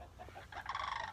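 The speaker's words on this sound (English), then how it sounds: "In case you guys don't know what a guinea hen sounds like. Isn't that the weirdest sound?" A guinea hen calling outdoors near a driveway, giving a short harsh, raspy call that rises into a strained, buzzy cry, close and moderately loud, heard alone.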